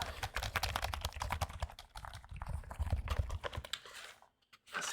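An HP Pavilion keyboard tapped and handled up close, with rapid, irregular clicks and clacks of the keys in dense bursts, a short quiet gap near the end, then more tapping.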